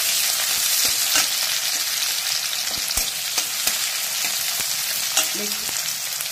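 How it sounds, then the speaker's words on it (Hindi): Continuous sizzling and crackling of onions frying in hot oil, a steady hiss with occasional pops, close up and without talking. "प्याज को हम गोल्डन ब्राउन फ्राई कर लेंगे"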